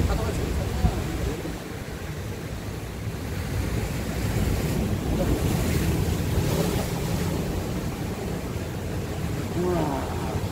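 Big ocean waves rolling in at Songjeong beach in Korea: a sustained, loud roar of surf mixed with gusty wind rumble on the microphone, and a faint voice briefly audible near the end.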